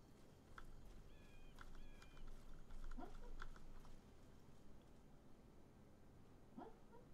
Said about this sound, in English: that is my dog having a bad dream.